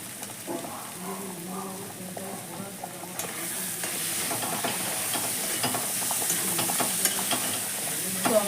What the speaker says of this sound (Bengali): আমার মশলাটা সুন্দরভাবে কষা হয়ে গেছে